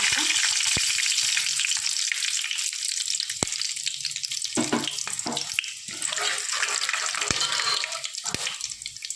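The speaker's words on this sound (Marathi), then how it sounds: "चला हे चांगलं गरम झालं आहे त्याच्यामध्ये सगळं गरम मसाला टाकून" Garam masala dropped into hot oil for chicken biryani sizzles and crackles steadily, with a few sharp clicks of utensils and a burst of louder spattering midway, no voices.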